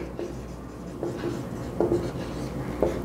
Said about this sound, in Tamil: நான் இங்கே எழுதுகிறேன்